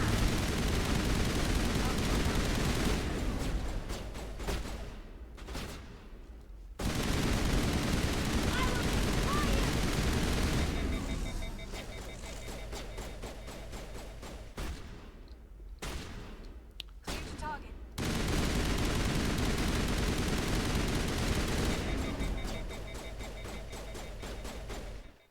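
Sustained, loud automatic gunfire in a Mass Effect battle, fire bursts broken by a few short lulls, with a voice heard calling out in the fight.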